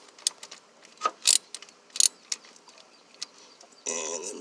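Ratchet clicks in short bursts while loosening a starter bolt on a 1978 Toyota pickup, close and fairly clear, with a brief harsher metallic scrape near the end.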